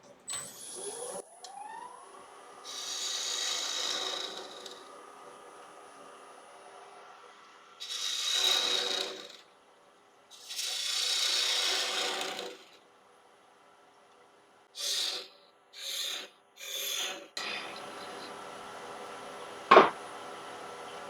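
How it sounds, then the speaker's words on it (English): A small 10mm spindle gouge hollowing a wooden capsule box on a woodturning lathe, heard as several separate cutting passes of soft scraping hiss, some longer and some short, over a quiet motor hum. "There's a little 10mm spindle gouge."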